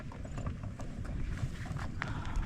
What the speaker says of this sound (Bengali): দেখতে পাচ্ছি আমরা এক ভাই হচ্ছে ঘোড়া গাড়ি করে কিছু মালামাল নিয়ে আসছে